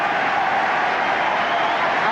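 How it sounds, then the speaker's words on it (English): A football crowd at a Leicester City First Division match roars as Sammy McIlroy comes on, a steady, dense wall of noise filling the stadium from start to finish. "And the roar is because Sammy McIlroy is coming on"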